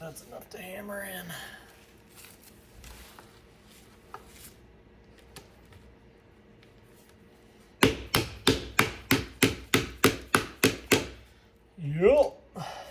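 Hammering on a flying goose taxidermy mount after a short voice and quiet handling noises: about ten sharp, evenly spaced close knocks in a quick run, followed by a brief murmur.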